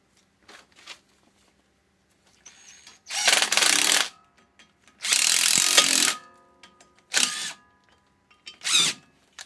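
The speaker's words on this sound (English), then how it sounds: "Hopefully there's screw holes to put these screws in to pop this rotor off." Screws being driven into the threaded holes of a front brake rotor on a 2003-2008 Toyota Matrix to push it off the hub, heard as several loud bursts of power-tool whirring separated by quiet gaps and small mechanical clicks.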